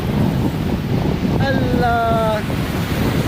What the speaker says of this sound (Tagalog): Eh kasi ang lakas ng alon yan oh.